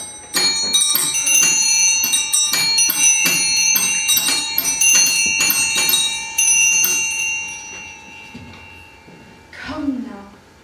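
Town bells ringing in a clanging, overlapping peal that fills most of the stretch, then fades out as a voice speaks at the end.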